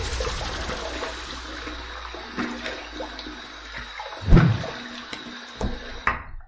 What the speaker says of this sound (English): Let's wet the face and let's get to the shave.